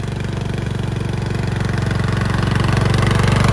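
A Craftsman LT1000 lawn tractor engine runs steadily close by, a loud rhythmic mid-pitched putter with a faint knock that grows slightly louder over a few seconds.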